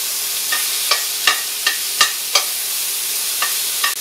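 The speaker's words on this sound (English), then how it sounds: "The bacon's already starting to separate, and just let it keep cooking down, stirring it occasionally." Applewood smoked bacon sizzles in a pan on an induction cooktop with a steady hiss, broken by a series of regular scraping stirs from a utensil, close and clear.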